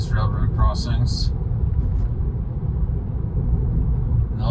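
A Tesla Model 3 rolls over railroad crossings, giving a continuous low road rumble from inside the cabin with a few brief brighter thumps and clatters early on, with a voice talking over it.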